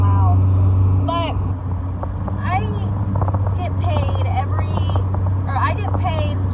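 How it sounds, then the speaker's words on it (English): A loud car drones with a deep, constant low hum while driving, the steady engine and road noise sitting under someone talking throughout. "this car is so fucking loud"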